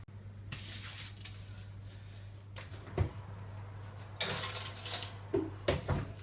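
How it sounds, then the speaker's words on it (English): An oven tray carrying an omelette roll is handled and slid into an oven, giving several light metallic clanks and scrapes spread through the clip over a low steady hum, with no talk. "I'm going to pop that in the oven for about 10 minutes"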